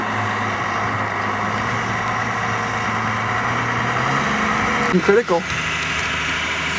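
A 1979 Ford tractor engine idling in a dugout with a steady, loud rumble, while a person speaks over it and a brief rough burst comes near the end.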